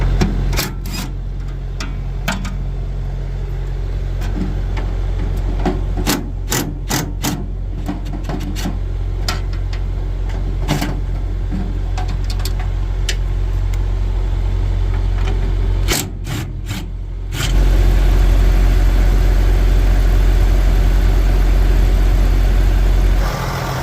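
A truck on freshly charged batteries being fired up: a long stretch of rasping clicks and cranking bursts, then the engine catches near the end and settles into a loud, steady low idle, no voices.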